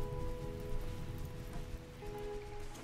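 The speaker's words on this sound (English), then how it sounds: "Oh, thank God, it's raining." Rain falling in the video game RimWorld makes a steady, dense hiss and patter of drops on surfaces, constant throughout, with a faint sustained tonal hum underneath and no voices.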